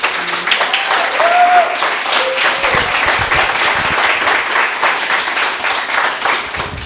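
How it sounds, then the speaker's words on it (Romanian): Studio audience applauding a comedian named Lucaci at a Romanian stand-up joke contest semifinal, dense steady clapping throughout, close and loud, with a few faint voices mixed in. "hai să vedem aplauze pentru Lucaci"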